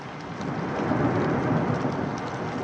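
Heavy rain pours steadily during a summer thunderstorm in the wild, with a deep continuous roar of thunder rumbling beneath the dense hiss of the downpour throughout.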